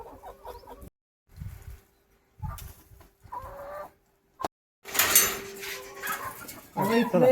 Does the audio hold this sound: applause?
no